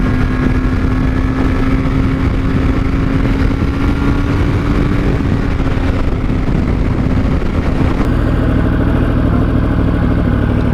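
Wind roars loudly and continuously past a rider on a Honda CBR600RR or Yamaha R1 motorcycle, a dense buffeting rush over a droning engine note that shifts near the end.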